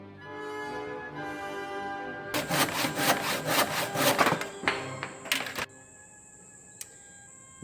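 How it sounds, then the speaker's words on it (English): A hand saw cuts back and forth through a wooden stick clamped in a vise, giving dense rasping strokes for a few seconds that stop abruptly. Quieter workshop sounds and a few light knocks follow. "grab yourself a saw and start sawing"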